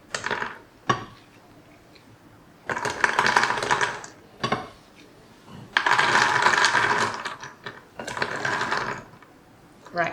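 Fried cashew nuts tumble into a pan for a Thai chili cashew snack mix, giving several separate bursts of rattling and clattering with quiet gaps between them, close and fairly loud, with no talking.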